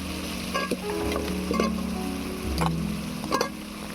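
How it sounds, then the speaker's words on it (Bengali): Fried taro pieces are tipped into a sizzling spiced masala for a bhetki fish head curry. The frying hiss carries on under repeated stirring scrapes and clinks, close up and with no voices. "মশলা ভালো করে কষানো হয়ে গিয়েছে এবারে দিয়ে দেবো ভেজে রাখা কচু"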